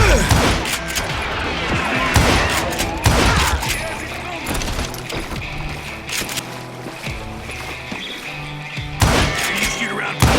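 Dense gunfire in the Western shooter Call of Juarez: Gunslinger, loud overlapping shots and bursts crowding the whole stretch amid busy game sound and music, with voices talking over it.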